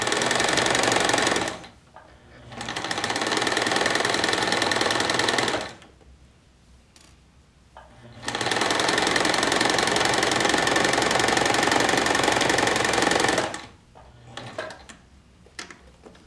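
A sewing machine stitches along the edge of a fabric face mask in two long, loud, steady runs of rapid needle chatter, separated by quiet pauses with light handling noise.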